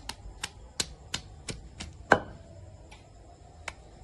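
Onion being chopped into pieces on a board for a roti pachadi: about ten crisp knife strikes spaced at a steady, unhurried rhythm, close and clear with no talking.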